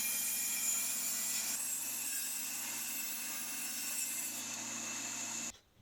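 A saw runs steadily while cutting wood for a homemade sliding wooden window frame, making a continuous even whine with a rasping edge that holds for several seconds before abruptly stopping.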